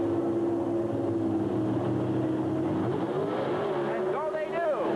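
Chevrolet Camaro pro stock drag cars at a 1982 NHRA event idling and revving in the staging lanes before a quarter-mile run, a steady droning engine roar with rising revs near the end, under a commentator's voice.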